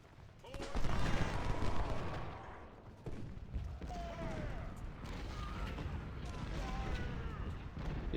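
Cannon fire from Cable's guns in a Civil War battle game, rumbling booms and crackling volleys layered with distant shouts and clatter, loudest at the start and then rolling on steadily.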